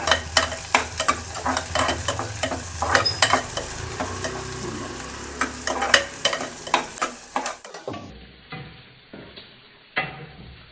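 Onion, curry leaves and green chillies fry in a pan for a radish palya while a spoon stirs them, giving repeated scraping strokes over a steady sizzle that grow sparser and quieter toward the end.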